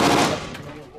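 A Glock 19 Gen3 pistol fires a single loud, sharp shot at a shooting range, and the report decays quickly into a short echo.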